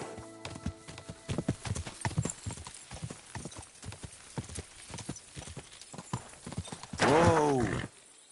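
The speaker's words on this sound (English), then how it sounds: "Watch out with that horse." Horse hooves clip-clop in a steady rhythm in Kingdom Come: Deliverance II, close and fairly loud, ending in a loud, clear neigh near the end, with a voice briefly heard.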